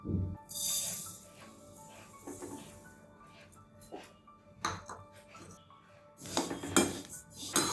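Sesame seeds dry-roast in a hot kadai for sesame laddu, with repeated metallic clanks and scrapes from stirring and short crackling bursts that swell louder near the end.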